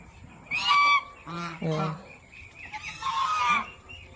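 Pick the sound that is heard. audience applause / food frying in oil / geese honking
geese honking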